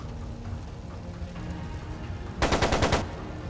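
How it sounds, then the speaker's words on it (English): A machine gun firing in Trails of Cold Steel II: a rapid burst of about six loud shots lasting half a second, cutting through a murmuring background of game music. "It sounded like a machine gun."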